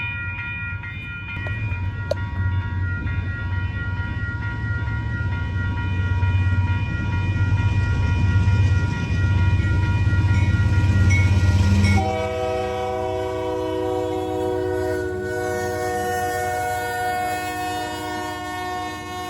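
A full-size train rolls past at close range in Portland, Oregon, its loud sustained horn blaring over heavy rumbling and clanking of railcars, with the horn's chord changing partway through as the train continues by.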